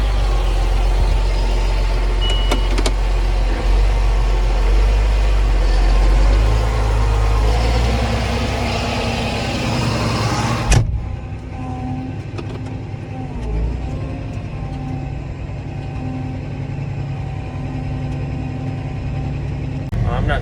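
A tractor pulling a grain cart in a corn field runs with a loud, steady engine rumble that shifts abruptly to a quieter, lower drone about halfway through.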